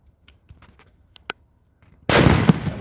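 A homemade 15-gram flash powder firecracker detonates outdoors with one sudden, very loud blast that keeps roaring and crackling after quiet moments of small scattered noises.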